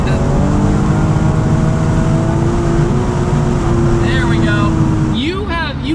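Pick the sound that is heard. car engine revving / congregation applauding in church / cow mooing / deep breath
car engine revving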